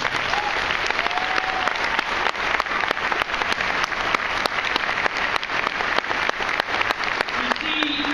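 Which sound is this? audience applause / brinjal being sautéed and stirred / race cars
audience applause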